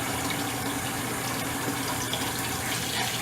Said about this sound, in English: Get it rinsed off a little bit so it doesn't harden